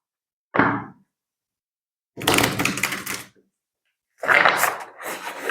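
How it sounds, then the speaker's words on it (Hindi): Tarot cards being shuffled in three separate bursts: a short riffle, a longer flutter of cards, then another crisp riffling run, close and loud against silence. "let's shuffle up your cards first"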